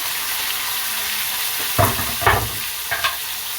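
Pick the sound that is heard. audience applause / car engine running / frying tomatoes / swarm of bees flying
frying tomatoes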